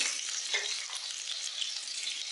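Green chillies sizzle in hot oil as a tempering for millet pongal, a bright, steady close crackle and hiss with faint stirring, no talk.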